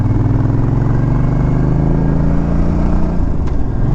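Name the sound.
Suzuki Intruder Volusia motorcycle engine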